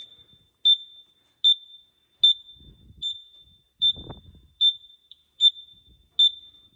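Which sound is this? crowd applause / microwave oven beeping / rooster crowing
microwave oven beeping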